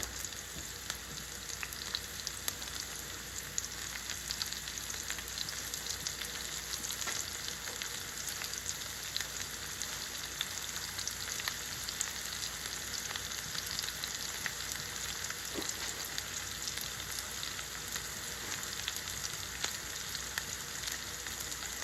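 Onions and curry leaves fry in hot oil while bitter gourd fry is being made, giving a steady, dense sizzle that runs unbroken and fairly loud throughout, with no talking over it.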